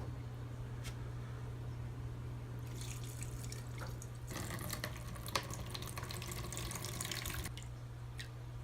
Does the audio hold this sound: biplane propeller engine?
no